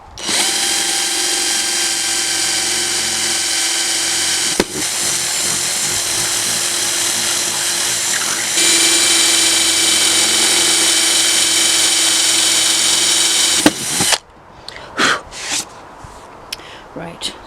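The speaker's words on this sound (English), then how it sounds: "I'm also going with the smaller drill bit, just to see if that makes it a little easier" A power drill fitted with a smaller bit bores into overhead van cabinets, a loud steady whine running for about fourteen seconds with a brief dip partway, then cutting off into short scattered bumps and handling noises.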